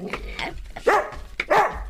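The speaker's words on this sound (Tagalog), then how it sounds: "Adda tataulan ti aso." A dog barks in short, close bursts, about three separate yelps with brief pauses between them, standing alone with no talk over it.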